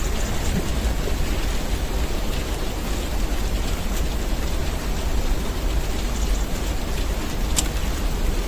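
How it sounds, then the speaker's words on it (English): Rain falls steadily outdoors as a dense, even hiss with scattered faint drops and a low background rumble, continuous throughout and with no voices. "unless it stops raining today"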